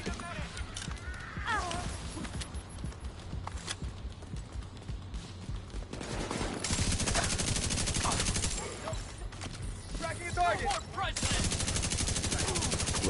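Rapid gunfire from The Division 2, a third-person shooter, crackles in dense bursts alongside other game effects, growing louder and heavier in the second half while people talk over the action.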